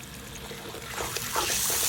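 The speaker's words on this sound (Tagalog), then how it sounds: "lagyan po natin ng kalahating basong tubig" Half a glass of water poured into a pan of sauce for prawns with rice noodles, heard as a soft, continuous trickle that grows slightly louder and splashier toward the end.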